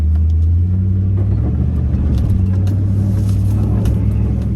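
A Ford Excursion SUV engine rumbles loudly and continuously at close range while stuck in a wash, a deep low drone that swells slightly as it revs.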